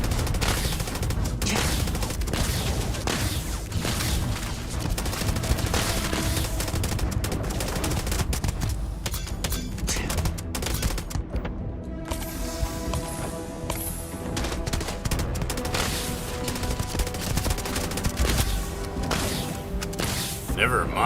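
Enemy gunfire in Starfield rattles almost without pause, dense volleys and bursts crowding the whole stretch, loud and close, with game noise layered beneath and no clear gap.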